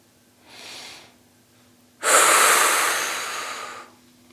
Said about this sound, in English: I'm going to exhale completely.